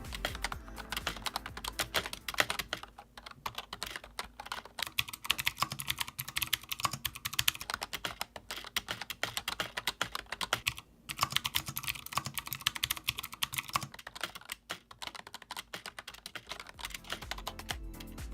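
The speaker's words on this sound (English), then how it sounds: "My first impressions were that I was typing on a plastic switch because of the sound it produces." Rapid continuous typing on a Cooler Master MasterKeys Lite L mem-chanical keyboard, dense plasticky clicks close up and fairly quiet, with only brief pauses.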